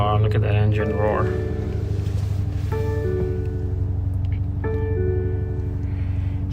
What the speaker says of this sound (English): look at that engine roar